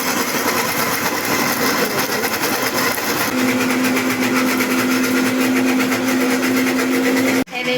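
A grinding machine hums steadily and loudly while batter for gur pitha, a jaggery rice cake, is ground, its motor whine rising to a steady pitch before cutting off abruptly at the end.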